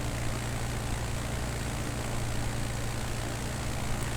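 Savage Cub light bush plane cruising on a Nevada leg in Microsoft Flight Simulator 2020, a steady propeller-engine drone with a low hum that holds even and unbroken throughout, no voices.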